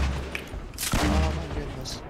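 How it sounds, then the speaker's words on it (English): Gunfire in a battle royale video game, a burst of loud sharp shots and a rumbling boom heard close, with a player's voice over the game sound. "Oh, someone's shooting."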